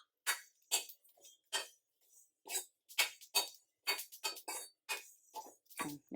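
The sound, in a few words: sesame seeds popping while dry roasting in a pan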